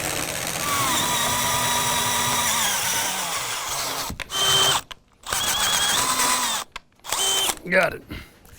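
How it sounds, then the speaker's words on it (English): A power drill whines steadily as it bores through a live-edge wooden bar, then stops and restarts in several short bursts with brief pauses between them. "take a chance that we can drill this bigger"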